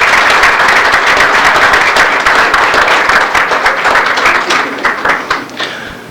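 A loud, close audience claps at a 1991 high school football awards event, with a thick burst of many hands that gradually loosens into more distinct claps and tapers off.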